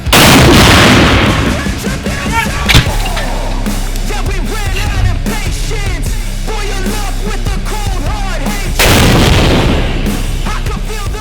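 Heavy artillery booms from a Ukrainian 80th air assault brigade unit firing on an enemy mortar section near Bakhmut, loud and close, with a large blast at the start and another near the end, rumbling echoes between them and voices talking underneath.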